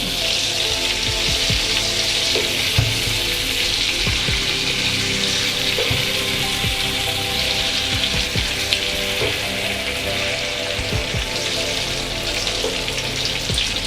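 Pineapple pieces cook in a pan with a steady, dense, watery sizzle and scattered soft pops and crackles that hold at an even level throughout, with no talking.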